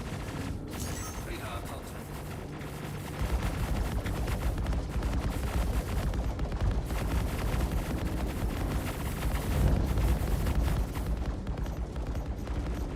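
Rapid spaceship weapon fire in the space game Star Citizen, a dense continuous barrage with booming impacts that grows louder after the first few seconds and holds steady to the end, no talk over it.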